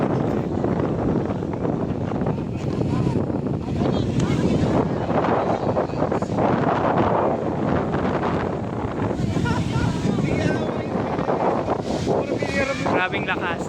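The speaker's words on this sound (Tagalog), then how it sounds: "Sobrang lakas ng water current." Strong current of the Dupinga River rushes in a dense, loud, continuous roar mixed with wind buffeting the microphone, with a voice talking over it.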